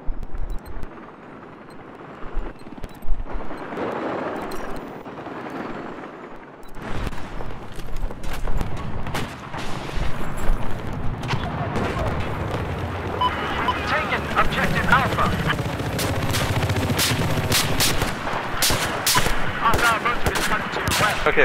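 Battlefield 4 gunfire in a Shanghai match, a dense mix of scattered shots and automatic bursts building into heavy, sustained fire with rumbling explosions and background roar, and voices talking over it.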